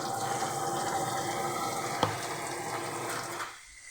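Water pours steadily into a pan of jaggery being prepared for a berry pickle, a continuous close splashing stream with one sharp clink partway through before the pour tapers off at the end.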